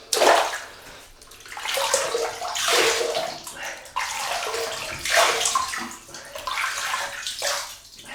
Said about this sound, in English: Just going to wet the face.